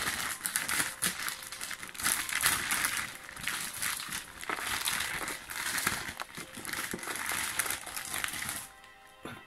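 Eaglemoss DC Flash figurine packaging being torn open: continuous close crinkling and crumpling of plastic and cardboard, loud and busy throughout, with no speech, before it quiets at the very end.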